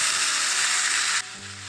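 Loud, steady sizzling from a hot pan of frying potatoes that drops off abruptly partway through as boiled chow mein noodles are added, leaving a quieter low rumble and faint clatter.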